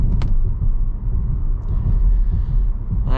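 A 2025 Kia Soul EX's engine drones low as the car accelerates on a rough road, a steady rumbling cabin hum with faint road noise and no talk.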